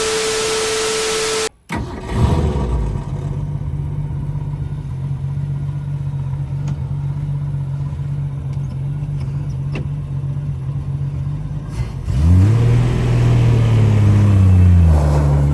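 A Ford Mustang's engine cranks and fires up loud and close, settling into a steady rumbling idle before being revved hard near the end.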